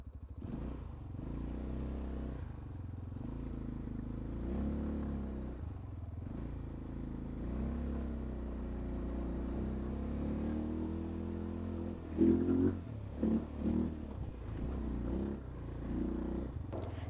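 An ATV engine drones on a ride at a resort, a low steady motor sound that rises and falls in pitch, with a few bumps and clatters near the end and no talking.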